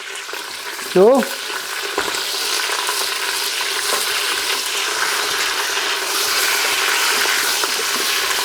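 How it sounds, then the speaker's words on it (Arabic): Onion sautéing over meat in a hot pan, a steady close sizzle with a brief scrape of stirring near the start, and a single short spoken word. "هذا البصل راح نوديه اول ما ينزته فوق اللحم، نحمسه، راح نحمسه البصل."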